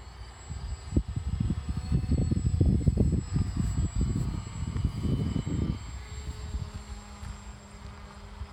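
A model airplane engine in flight near half throttle, a buzzing drone that swells loudest at mid-pass and then fades as the plane moves farther away, heard on its own without talk.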